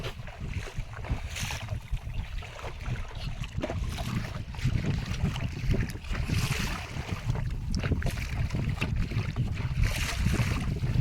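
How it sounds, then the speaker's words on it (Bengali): Strong wind buffeting a small fishing boat on the Garal river, a loud continuous roaring rumble that keeps surging and never lets up, with no voices. "প্রচণ্ড হাওয়া হচ্ছে আপনারা হয়তো বুঝতেই পারছেন"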